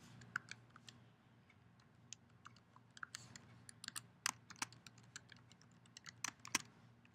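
Username and password go in on a computer keyboard as soft, irregular keystrokes, sparse at first and then quicker, with a few sharper taps near the end, all faint and close in a quiet room.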